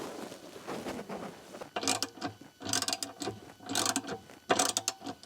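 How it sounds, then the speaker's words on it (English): A 7/16 ratchet tightening a bolt under a sink, giving bursts of rapid close-up clicking in four or five spaced strokes after a quieter lead-in. "I got a 7/16 ratchet here."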